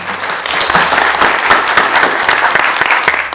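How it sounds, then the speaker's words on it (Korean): Audience applause welcoming a speaker to the podium at a Korean labor forum on worker directors at public enterprises, a loud, dense patter of many hands clapping steadily throughout without any voices. "우리 박수로 맞이하겠습니다"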